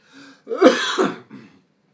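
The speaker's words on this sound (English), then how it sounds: "I just coughed on my own inadequacies." A single close cough with a rough throat-clearing quality, preceded by a faint breath and trailing off into a short raspy tail.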